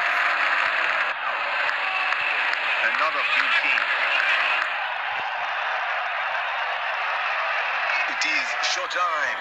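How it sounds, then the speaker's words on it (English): A large crowd at a Bangladesh versus India cricket match roars and cheers after a six, a dense, loud, sustained wash of noise, while a commentator talks over it. "Crowd going mad here."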